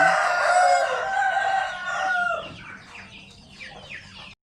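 Fighting cocks kept on a farm in Korat crowing, one long loud crow up close in the first half, followed by fainter overlapping crows and clucks.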